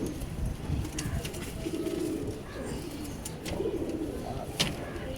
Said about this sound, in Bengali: এই একটা মাদি কবুতর, এটাও জাঞ্জি